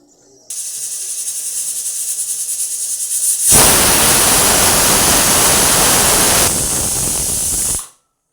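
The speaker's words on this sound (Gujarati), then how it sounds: "કુકરનું ઢાંકણું બંધ કરી બે સીટી આપણે કરી નાખશું" A pressure cooker on the stove, closed over boiling samani khichdi, lets out a loud, steady steam hiss and whistle that swells sharply partway through and holds for several seconds before cutting off abruptly.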